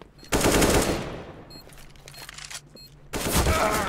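Bursts of automatic gunfire in CS:GO during a Pro League match, loud rapid fusillades opening and closing the moment with a quieter stretch of scattered shots between, no talk over them.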